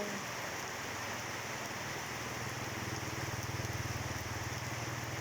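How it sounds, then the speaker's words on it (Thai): Steady, dense rain pours down in Vang Vieng, Laos, as a constant hiss on surfaces, with a low rumbling hum building beneath it midway. "นี่ฝนตกบ่เศร้าเลย"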